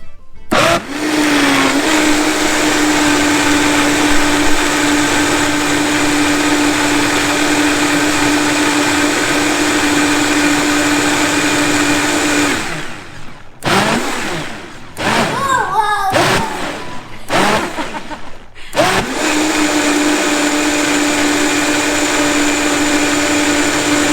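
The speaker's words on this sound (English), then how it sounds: "Close our blender." A blender whirs loudly and steadily while blending soup with fresh dill, stops briefly amid some clatter and thumps, then starts up again at full roar.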